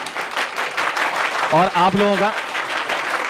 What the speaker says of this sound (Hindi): पहले तो जोरदार तालियां खुद के लिए, फिर जोरदार तालियां रितेश सर के लिए